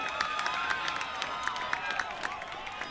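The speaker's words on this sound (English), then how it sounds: "as you hear, this is a Wingate home crowd of sorts on this neutral field" A home crowd cheers and claps after a goal at a men's college lacrosse tournament game on a neutral outdoor field, a steady wash of applause with scattered sharper claps and shouts at moderate distance.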